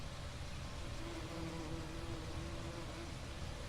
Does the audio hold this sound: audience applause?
no